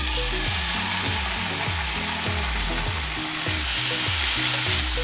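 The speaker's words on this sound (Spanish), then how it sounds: "Ponemos una sartén al fuego, le ponemos un chorrito de aceite y vamos poniendo la pechuga de pollo." Chicken breast frying in a splash of oil in a pan gives a steady, loud sizzle that runs unbroken throughout, with a stepped, tonal musical pattern layered over it.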